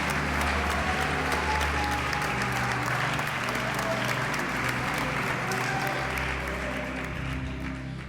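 A church congregation applauds during a worship service, sustained loud clapping filling the room for the whole stretch, with a low hum of voices and music underneath.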